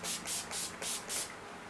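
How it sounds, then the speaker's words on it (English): Skindinavia makeup setting spray misted over a finished makeup look in five quick, close hissing pumps, evenly spaced, then quiet. "I am setting everything in place with my Skindinavia makeup setting spray."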